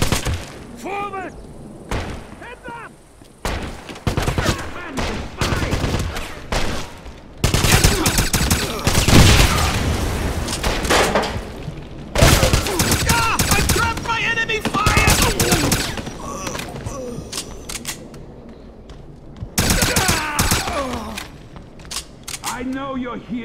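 Rapid bursts of suppressing gunfire in the video game Wolfenstein, loud and close with repeated volleys and thuds, mixed with shouting voices throughout.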